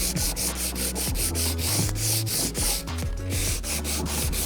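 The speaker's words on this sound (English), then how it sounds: "We don't want to make a giant area, but we do want to sand it" Someone sands the surface of a wooden cabinet door under repair, with a steady run of close, rhythmic back-and-forth gritty strokes, and no voices are heard.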